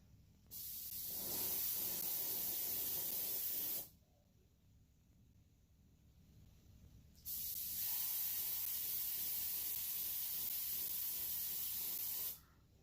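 A spray coat is applied to a spoon in two separate bursts, each a loud, steady hiss lasting about three to five seconds, divided by a quiet pause.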